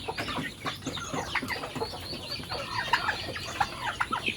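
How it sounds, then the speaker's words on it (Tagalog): A flock of turkeys gobbles and clucks nearby, overlapping rapid warbling calls filling the clip with busy poultry chatter. "Ito yung mga pabo natin"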